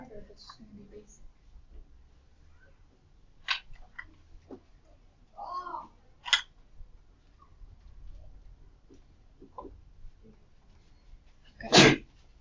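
A single sharp sneeze bursts out near the end of a quiet classroom stretch during a calculus lesson, loud and close, after scattered faint shuffles and small noises.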